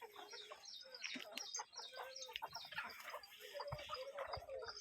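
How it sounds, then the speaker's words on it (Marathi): On a farm raising free-range desi chickens, a large black rooster and hens cluck and call close by in a busy, uneven series, with people talking faintly underneath. "कोणचा कोंबडा आणला तुम्ही"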